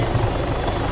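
A helicopter in Altis Life on Arma flies overhead, giving a loud, steady rotor drone with a rapid low chopping pulse and no break throughout.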